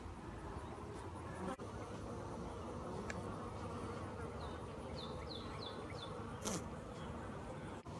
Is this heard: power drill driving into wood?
no